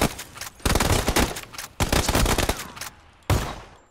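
Video game gunfight: loud, close bursts of rapid automatic gunfire in three to four long volleys with short gaps, the last burst cut off abruptly.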